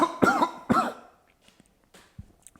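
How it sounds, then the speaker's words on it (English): A person clears their throat with two harsh, forceful rasps in quick succession, close and loud, followed by a few faint small noises and near silence. "Maybe let me clear my throat."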